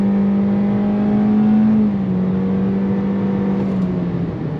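A 2024 Kia Seltos S with a 146-horsepower engine pulls away in normal mode, its steady engine drone climbing and then dropping in pitch at simulated gear shifts, loud and constant from inside the cabin, with no talking.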